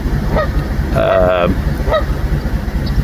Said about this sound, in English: We have Canadian geese.